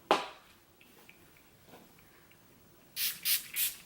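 Farsali setting spray misted onto a face, three quick close pumps of fine spray near the end after a soft scrape and light handling sounds, no talking.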